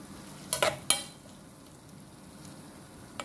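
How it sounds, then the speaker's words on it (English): Tomatoes cooking in a pan until soft, a quiet continuous sizzle with a few brief scraping stirs near the start and one faint clink later. "just leave the tomato to cook until soft"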